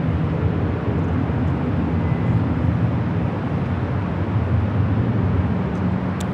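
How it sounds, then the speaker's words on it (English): Virgin airliner touching down on runway 25 left at LAX, a steady broad engine roar with low rumble sustained throughout, fairly close and continuous with no talk. "Virgin Flight 23 now touching down on 25 left"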